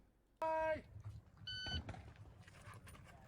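A shot timer gives a loud, piercing electronic start beep at a 3-gun shooting match, followed a second later by a second shorter tone and low outdoor range noise.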